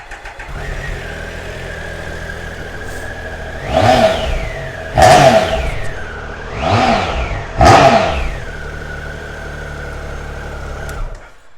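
A 2018 Triumph Tiger 1050 Sport ABS motorcycle engine fires up and settles into a steady idle, then four sharp throttle blips rise and fall before it drops back to idle, loud and close with no talk.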